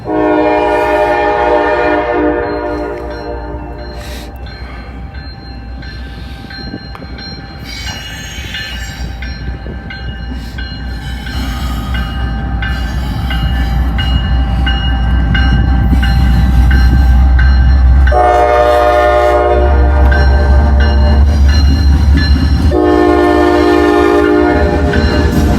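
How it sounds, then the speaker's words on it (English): A Canadian National freight train led by many locomotives rolls past loudly and close, with horn blasts, heavy diesel rumble, wheel squeal and rail clatter building as it goes by. "Might be a Canadian National. Well, there's a bunch of locomotives on this guy."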